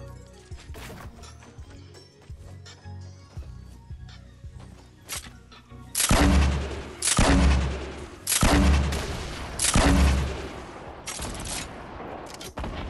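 Rocket launcher fire and explosions in Fortnite Battle Royale, with scattered small clicks and shots early on, then four loud booming blasts in quick succession.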